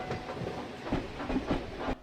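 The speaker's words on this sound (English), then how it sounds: "That evening, Douglas was shunting after the last train had gone." A steam engine shunts on rails at evening with a steady rhythmic clatter of wheels over rail joints. It is moderately close, with a soft hiss underneath and no voices.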